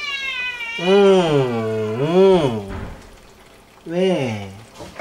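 A cat in a home kitchen gives three loud, drawn-out meows, each rising and falling in pitch, with short pauses between them and a brief spoken word nearby.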